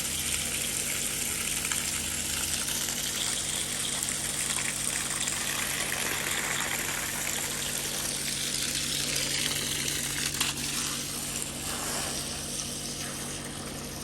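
Water gushes steadily from a hose fed by a 24V 10GPM pump, a continuous close splashing rush with a constant low motor hum underneath.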